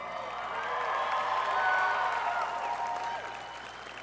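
Graduates at a college commencement ceremony applauding and cheering for their families, a broad sustained roar of clapping with whoops rising through the middle and tapering off near the end.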